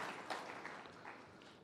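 A distant audience at a university open house claps steadily through the whole short moment, faint and even, with no voices standing out.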